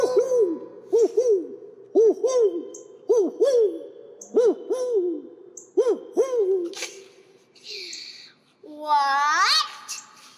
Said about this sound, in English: An owl? Wrong fowl.